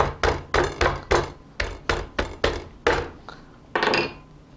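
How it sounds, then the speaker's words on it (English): Repeated close hammer blows crack lobster shell under a cloth rag: about ten dull, muffled whacks in quick succession, then a short clattering scrape at the end, with no voices. "And with a hammer,"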